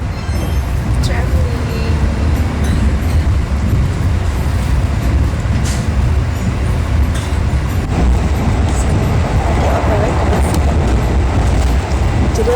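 A passenger train pulls into a station in Indonesia with a steady low rumble and rolling wheel noise throughout, busy station ambience around it.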